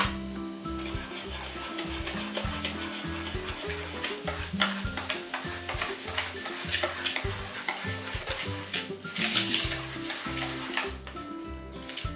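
Red velvet cake batter being mixed with oil and sugar in a bowl, a steady busy scraping and stirring texture with rhythmic tapping of the utensil against the bowl, close and continuous throughout.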